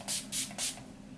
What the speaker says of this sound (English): spray my face using the Urban Decay De-Slick Makeup Setting Spray